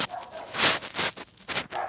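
A dog at home barks and yips in a quick series of sharp, fairly close bursts, with whimpering tones between them.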